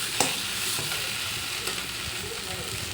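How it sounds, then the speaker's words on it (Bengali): Drumsticks stir-fried with mashed boiled potato and a splash of water, a soft steady sizzle with a few sharp utensil knocks against the pan, close and even, with light stirring throughout. "আলু সেদ্ধটা ভালো করে ম্যাশ করে দিয়ে কষিয়ে নেব, দিয়ে সামান্য জল দিয়ে ভালো নেড়ে করে ভেজে নেব।"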